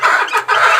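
Chickens and chicks clucking and cheeping up close in a loud, continuous brief burst of overlapping calls.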